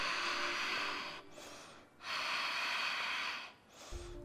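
Deep rhythmic breaths while holding a hatha yoga pose, two long loud close exhalations with a quieter inhale between them, and no talk.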